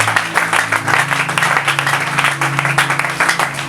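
A church congregation applauding together, steady dense clapping that fills the room for several seconds, close and lively, with a faint low hum and some voices beneath.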